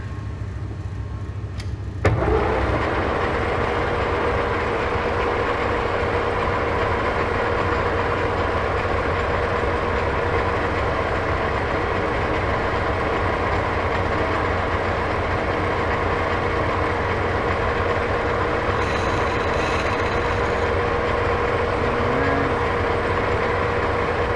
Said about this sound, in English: let's get back to lathe work. Got this chucked up, turned around, and we're going to face it to length.